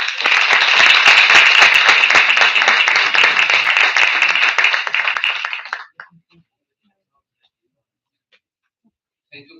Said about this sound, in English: You have got the loudest cheer till now.